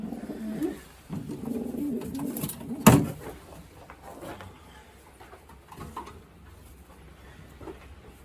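Racing pigeons coo in soft, repeated throaty phrases close by, with a loft's light rustling and a brief sharp knock partway through.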